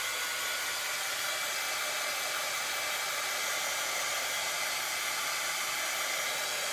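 A hair dryer blows steadily and loudly on a bunny welcome sign, a continuous even hiss of rushing air with no pauses.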